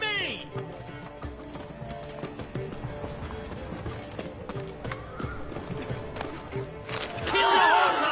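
Horse hooves clip-clopping at a run and a loud whinny in The Witcher 3 on PS5, mixed with game battle noise and background voices.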